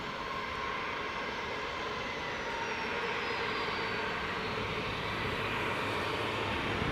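A Jet2 airliner at Leeds Bradford Airport produces a continuous broad engine roar with a faint sliding whine, steady and moderately distant throughout.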